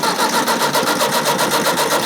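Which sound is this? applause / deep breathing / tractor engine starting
tractor engine starting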